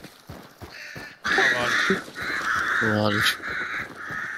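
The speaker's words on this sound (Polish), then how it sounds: "Kruki." Ravens caw in Hunt: Showdown, a few harsh calls rising clearly over steady game ambience while a person talks.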